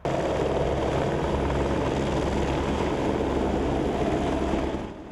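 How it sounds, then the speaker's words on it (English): A helicopter runs close and loud, its steady rotor whir and turbine roar constant throughout before easing slightly at the end. "Jones's ashes were delivered to the helicopter which would carry them away"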